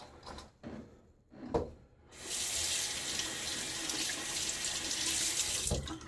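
A bathroom tap is turned on during a wet shave, a steady hissing stream of running water that starts abruptly after a few soft knocks and handling sounds and runs on, fairly close.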